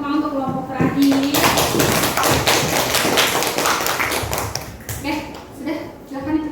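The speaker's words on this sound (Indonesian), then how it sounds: "Salam tepuk tangan untuk kelompok terakhir." Applause from a classroom audience for the last presenting group, a few seconds of loud, dense clapping that fades out, with voices talking before and after it.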